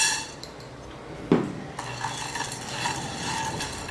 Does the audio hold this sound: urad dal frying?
yes